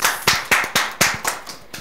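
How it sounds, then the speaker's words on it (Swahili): Clapping for AMG Realtors: about eight sharp, evenly spaced claps in a quick steady rhythm, close and fairly loud, with nothing else alongside. "Wow, makofi ya AMG Realtors."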